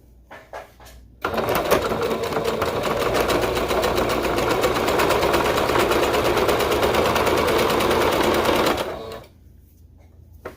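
A sewing machine topstitches a seam on a leotard, running in one steady, rapid mechanical whir for about seven and a half seconds, with a few short clicks before it starts and after it stops.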